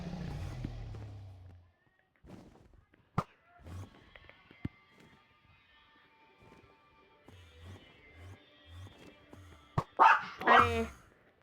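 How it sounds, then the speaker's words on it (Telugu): A dog barks in a short series of low, repeated woofs midway through, with sharper higher barks near the end, over quiet background noise and a faint voice at the start. "ఏమైనా డాగ్ సౌండ్ వస్తుంటే క్షమించండి,"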